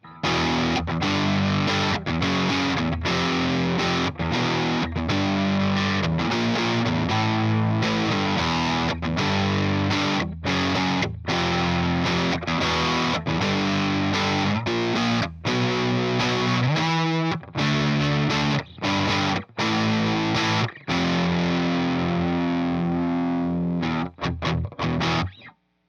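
Kramer Pacer Imperial electric guitar played with heavy distortion, tight palm-muted metal chugging riffs in loud, driving rhythmic bursts with short stops, ringing out briefly before an abrupt end.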